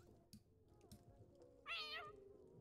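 A cat meows in The Sims 4 life-simulation game, one clear, close, rising-and-falling meow after a couple of faint soft sounds and a quiet background hum.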